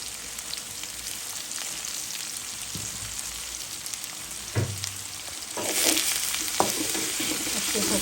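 Onion, raw spices, tomato and salt frying together in a pan, producing a steady crackling sizzle broken by a few stirring knocks, with the hiss swelling louder partway through.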